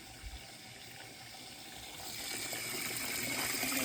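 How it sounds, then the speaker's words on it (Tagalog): Water runs steadily from a tap, a broadband hiss that grows slightly louder and fuller toward the end, with no talking. "Tubig."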